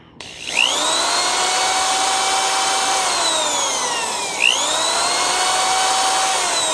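A small drill bit spins up and bores into a transistor socket to widen its hole, a steady high whine running close and loud with a brief dip and re-rise midway, no talking.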